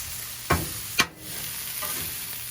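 Steak and vegetables cook on a Blackstone griddle outdoors in the snow with a continuous hiss of sizzling. Two sharp spatula scrapes cut through it, then a softer stir follows, with no talking.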